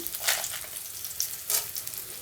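Garlic, dried red chillies and chana dal sizzling in hot oil in a pan for a Telugu greens and dried prawn curry, a steady close crackle with brief louder spits, no voices.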